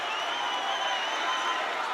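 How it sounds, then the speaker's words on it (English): A large arena crowd at an EFC 106 mixed martial arts fight roars and cheers as a round ends, a steady, loud, continuous wash of cheering and applause with no letup. "And the crowd go nuts."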